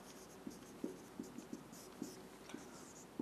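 Chalk or marker strokes on a classroom board while a chemistry reaction is written out, a steady run of short scratchy taps and squeaks at an uneven rhythm, close and fairly quiet, with no talking.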